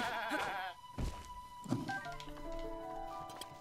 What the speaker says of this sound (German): Ich höre ein Schaf, ich höre ein Ochse.